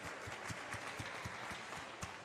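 An audience at a literary café event in Conakry applauds, a short burst of dense, fairly quiet clapping heard alone.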